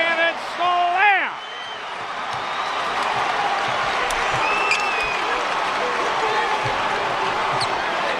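A basketball crowd at a high school state semifinal roars and applauds after a two-handed slam dunk, a sustained wall of cheering under an excited commentator's voice, with a whistle near the start.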